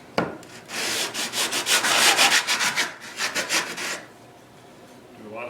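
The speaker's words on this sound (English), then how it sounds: "I'll sand for a while and let you see periodically how it's going" Rhythmic back-and-forth rasping of 80 grit sandpaper on a wooden tenor guitar board, a quick run of close strokes that stops and leaves a quiet pause.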